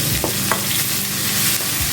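Mustard seeds, urad dal, cumin and curry leaves fry in hot oil for a tempering, a loud close crackling sizzle with sharp pops and a stirring scrape near the end.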